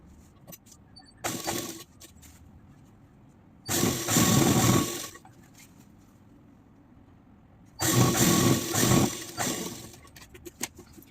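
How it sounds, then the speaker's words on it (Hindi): Two bursts of a sewing machine stitching a palazzo seam, one short and one long, each a fast mechanical whir, separated by quiet handling noises and faint clicks. "इसे हम रिपीटेडली एक और बार सिलाई कर लेंगे"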